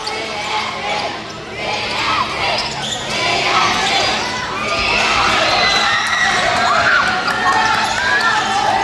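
Loud, continuous crowd cheering and shouting at a youth basketball division meet qualifier for players 17 and under, many excited voices rising and swelling throughout, with ball bounces faintly audible beneath.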